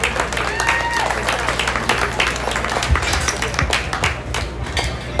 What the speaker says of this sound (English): Give those kiddos a round of applause.